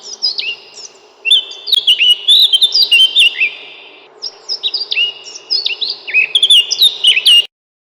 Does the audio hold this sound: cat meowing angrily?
no